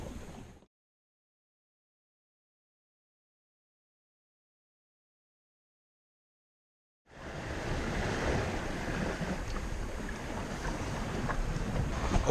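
Sailboat gliding across Atlantic ocean waves in a freshening wind, a steady broad rush of water and wind noise after a short silent gap, close and loud with no voices.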